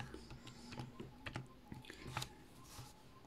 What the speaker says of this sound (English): You could type the whole thing onto the calculator one time